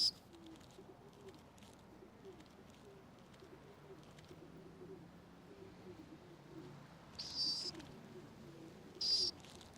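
City pigeons coo in soft, low repeated phrases that run through most of the stretch at moderate distance, with two brief sharp chirps from other birds near the end.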